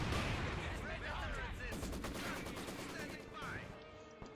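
German mortar fire in the Company of Heroes 2 video game, a dense stretch of booming blasts and rattling gunfire that overlap in a constant loud barrage, with a voice talking over the battle.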